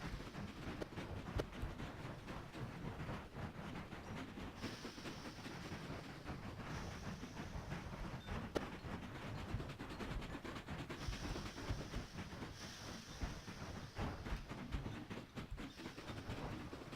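Trains run in the railway game Mashinky, producing a steady, faint rumble with a continuous clickety-clack texture and light hiss that lasts throughout, with no voices.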